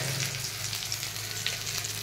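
Ground turmeric, coriander and cumin fry in a hot pan with oil, giving a steady close sizzle and crackle that runs evenly throughout, with no talking.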